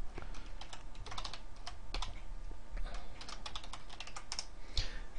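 A computer keyboard clatters with quick, irregular keystrokes in bursts and short pauses, close and fairly quiet, with no voice over it.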